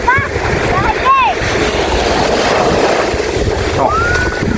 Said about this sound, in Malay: Maksudnya ombak dia dah kuat tu.